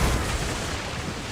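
Dense, sustained cannon and musket fire from an Assassin's Creed Rogue naval battle, a loud continuous rumble of overlapping booms with no clear gaps between shots.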